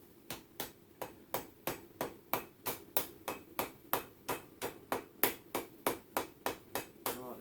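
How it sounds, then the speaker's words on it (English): A hammer peening over a rivet on hand-forged blacksmith tongs: about twenty sharp metallic strikes in a steady, quick rhythm, each ringing briefly, close and loud with no talking. "I'm now going to peen over the rivet."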